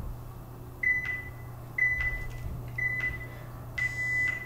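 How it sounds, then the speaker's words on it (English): A workout interval timer buzzer sounds four short, evenly spaced electronic beeps over a low steady hum. "And there was the buzzer."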